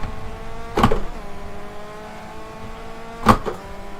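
A race car in the GTR 2 video game at Twin Ring Motegi accelerates, its engine note rising in two sharp surges a couple of seconds apart over a softer steady engine hum.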